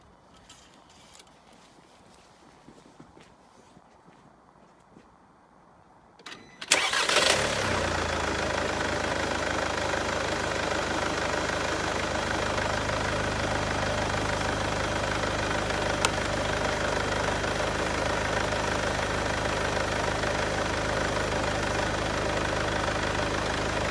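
A Mercedes B200 engine cranks and fires after several seconds of quiet, then settles into a loud, steady idle that runs unbroken to the end, close by.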